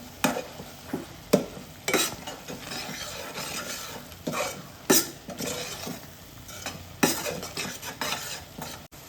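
Garam masala being stirred into chole masala in a pan: a spoon clinks and scrapes against the metal in irregular strokes over a low sizzle, close up, without speech.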